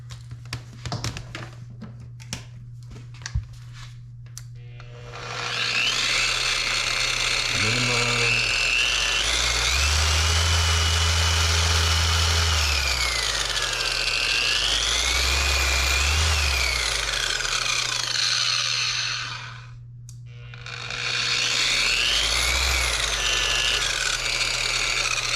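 A VEVOR 6-inch random orbital buffer polisher whirs up to speed with a loud steady motor hum, rising and falling in pitch as it works, cutting out briefly near the end before spinning up again.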